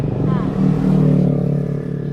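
A motorcycle with its rear exhaust pipe fitted idles close by in the rain, its engine giving a steady low droning hum that holds at an even loudness.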